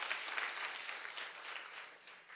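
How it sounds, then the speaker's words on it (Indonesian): A church congregation claps during a sermon, a brief burst of dense, fairly faint applause that tapers off slightly. "Kasih tepuk tangan buat Tuhan Yesus"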